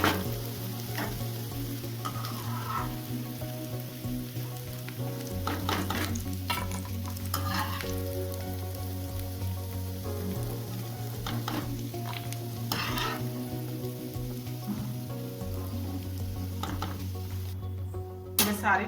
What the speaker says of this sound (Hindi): गट्टे फ्राई होने के लिए मैं डाल दी हूँ